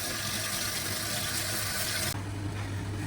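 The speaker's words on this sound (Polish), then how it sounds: "Teraz ryż przepłuczę, czyli dobrze umyję." Tap water runs steadily as rice is rinsed for stuffed young-cabbage rolls, a close, continuous splashing hiss that shifts in tone partway through, with no voices.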